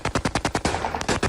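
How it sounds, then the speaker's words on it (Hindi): Celebratory AK-47 gunfire in Damascus, Syria: a rapid burst of about seven loud, evenly spaced shots followed by a denser crackle of overlapping rounds and one more report, close and sharp with no talk. "विद्रोहियों का स्वागत किया जा रहा है AK-47 की गोलियों की तड़तड़ाहट के बीच"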